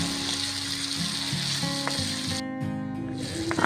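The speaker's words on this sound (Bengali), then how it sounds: "নেড়ে নিয়ে হালকা করে ভেজে নেব" Potato, carrot and beans frying lightly in oil for a winter vegetable khichuri, a steady close sizzle under a humming tone, with a brief scrape near the end and no talking.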